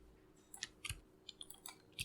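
Computer mouse clicks while modelling in Maya, a few quiet isolated clicks, some close together like double clicks, spread across a hushed background.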